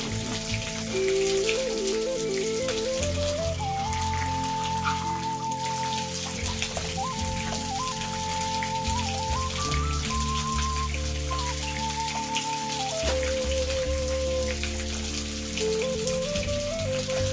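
Continuous splashing of a small waterfall runs steadily throughout, with a sustained musical tone wandering above it.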